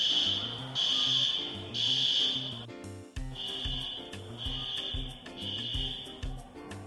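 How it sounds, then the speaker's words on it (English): A fire alarm shrills in repeated long bursts, loud and close, with a short break before the pattern resumes over low background noise. "and the fucking fire alarm went off."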